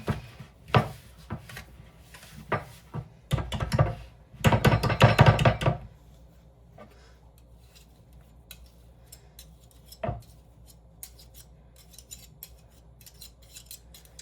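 A whisk working through a doughy paste in a bowl gives several bursts of rapid scraping and clattering strokes over the first six seconds. After that it falls mostly quiet, apart from one sharp knock.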